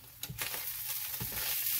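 Corned beef hash frying in a pan, a soft steady sizzle running throughout with a couple of faint scraping stirs, close and fairly quiet with no talk.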